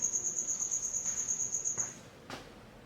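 A single cricket chirps at night in Florida, a rapid, shrill trill repeating close and steady for about two seconds before stopping, followed by a brief faint rustle; no one speaks.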